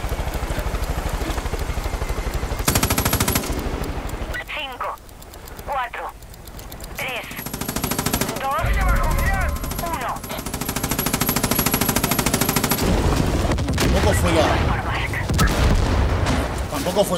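Bursts of Far Cry 5 gunfire and booming explosions from planted bombs crackle loudly, broken by short pauses and synthetic effects, with a voice speaking briefly between them.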